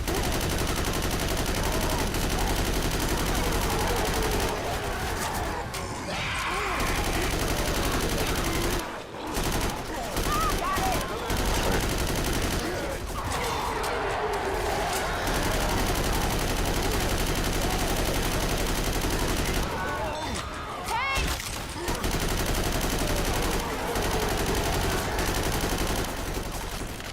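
Rifle gunfire in a survival video game, with near-continuous rapid shots and explosive blasts filling the whole stretch, loud and dense, with brief lulls and a voice talking over it at times.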